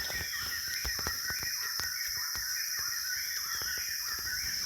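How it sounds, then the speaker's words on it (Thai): Birds call repeatedly at a distance over a dense, steady wash of high insect buzzing, with crow-like caws scattered through the outdoor ambience. "เสียงนก"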